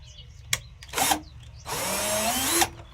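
A power drill fitted with a screw extractor bit works a stripped screw, sounding in two brief bursts and then one longer steady whirr, close and fairly loud.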